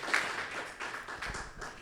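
A church congregation at a Spanish-language sermon applauds, a brief, soft, even patter of clapping heard from a distance with no talk over it.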